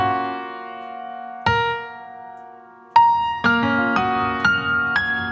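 A TV theme melody plays dry with no echo delay, its sustained tonal chords giving way to a series of sharp, separate note attacks near the end, clean and alone with no talking.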